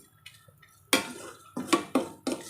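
A spoon scrapes and knocks against a pan while pineapple semolina sheera with saffron and sugar is stirred, four or five distinct clanking strokes close up, with no voice.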